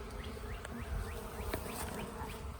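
Bees buzz steadily inside a sparsely populated beehive box, a continuous close insect drone with faint rising flight whines drifting past.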